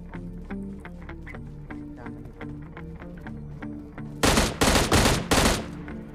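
Gunfire in the mobile battle-royale game Battlegrounds Mobile India: four loud, close shotgun blasts in quick succession near the end, after a stretch of steady background game music with no talk.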